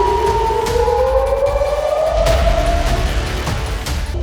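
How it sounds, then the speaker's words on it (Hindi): Civil defense air raid sirens sound at night during the Israel-Iran war, two overlapping tones sliding slowly upward, loud and steady over a low rumble with a few dull thuds. "ये सायरन की आवाजें युद्ध की घोषणा कर रही है।"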